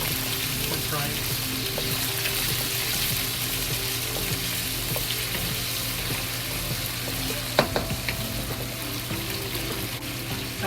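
Potatoes and pork fry in a pot with a steady, loud sizzle that runs the whole time, broken by occasional stirring clatter and a sharp knock near the end.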